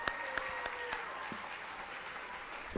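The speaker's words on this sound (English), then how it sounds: "a huge round of applause for Chloe Barlett" Applause for an award recipient fills a school hall at a fall sports awards program, steady clapping from a moderate crowd with a few sharper claps standing out, no voices over it.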